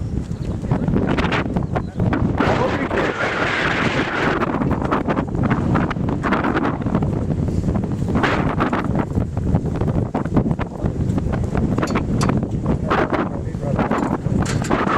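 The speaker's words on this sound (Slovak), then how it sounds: "Ale fúka vetrisko" Strong wind buffeting the microphone outdoors, loud roaring gusts that swell and ease across the whole stretch, with people talking underneath.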